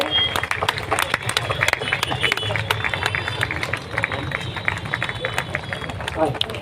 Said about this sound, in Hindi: थोड़ा आप लोग खड़े होकर ताली जरा बजाइए